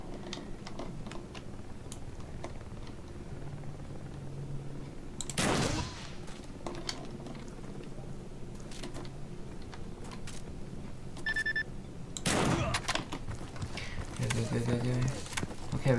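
Two loud, sharp blasts from a double-barreled shotgun in S.T.A.L.K.E.R.: Call of Chernobyl ring out several seconds apart over quiet clicking, with speech heard between them.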